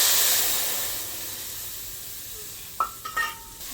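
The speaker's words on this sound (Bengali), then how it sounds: "এখন ভাজা তেলের ভিতর ঢেলে দেব" Spice paste of ground cumin and coriander mixed with water hits hot frying oil, setting off a loud burst of hissing sizzle that slowly fades, followed by a few close metal clinks of a spoon against the pan.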